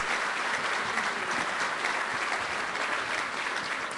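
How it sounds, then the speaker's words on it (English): Steady, dense applause fills a dinner hall as an audience at an EMS awards dinner claps continuously, loud and uninterrupted. "So if you could just give them a little round of applause, I think they deserve it."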